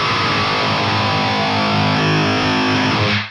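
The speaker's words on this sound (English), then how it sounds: "Let me show you what it's like with the distortion all the way up" An electric guitar runs through a Boss DS-1 distortion pedal with the distortion turned all the way up, one loud sustained, heavily saturated chord ringing densely for about three seconds before cutting off, with no talk.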